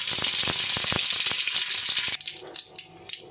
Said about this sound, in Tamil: கடுகு உளுந்தம்பருப்பு சேர்த்துக்கலாங்க